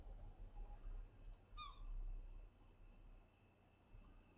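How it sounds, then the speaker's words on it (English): A steady, shrill cicada drone runs unbroken through the warm ambience of the survival video game Escape the Pacific. A faint low rumble sits beneath it and a brief chirp stands out midway, with no talk. "I love the sound of the cicadas in the game"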